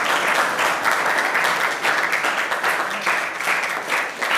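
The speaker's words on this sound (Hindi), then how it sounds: "जोरदार ताली से स्वागत करते हैं" An audience at a government higher secondary school's Constitution Day general knowledge quiz applauds a third-place prize winner. The clapping is dense and steady at close range, with a murmur of voices underneath.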